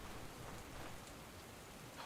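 Rain in the fantasy role-playing video game Stoneshard, a faint, even hiss of steady rainfall continuing throughout with no talk.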